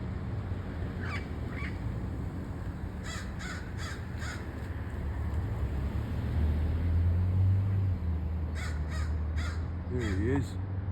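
Parrots squawking outdoors in Sherman Oaks, harsh repeated calls coming in short bursts over steady low traffic-like rumble, with a voice speaking nearby.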